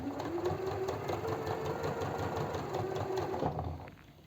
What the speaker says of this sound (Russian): я буду строчить по краю